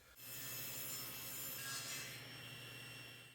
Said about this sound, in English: I'll cut some blanks out of it at about 2 5/8 inches wide